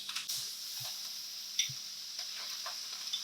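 A pound of peeled, deveined shrimp sizzles in a hot pan, giving a steady bright hiss with scattered small pops and ticks, moderately close and with no talking over it.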